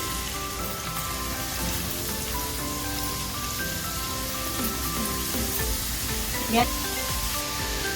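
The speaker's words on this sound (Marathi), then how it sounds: "2 मीडियम साईजचे कांदे बारीक चिरून घेतलेले ते टाकते।" Two finely chopped medium onions hiss in hot oil with a pinch of cumin, a steady broadband sizzle like light rain running the whole time, close and even, with one brief clink near the end.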